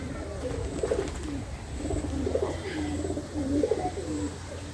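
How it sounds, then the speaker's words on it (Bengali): Pigeons kept by a village keeper coo in low, rolling repeated calls, several close birds overlapping at a moderate level against a quiet outdoor background. "কবুতরগুলো সব সারিবদ্ধভাবে রয়েছে।"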